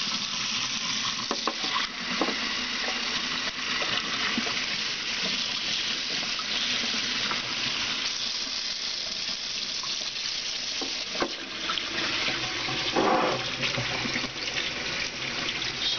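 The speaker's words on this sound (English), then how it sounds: "Hot tap water." Hot tap water runs steadily into a jar, a continuous close splashing hiss that carries on without pause for the whole stretch, with a few small clinks and bumps near the start and again toward the end.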